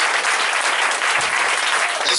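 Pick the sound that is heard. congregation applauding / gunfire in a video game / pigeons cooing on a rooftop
congregation applauding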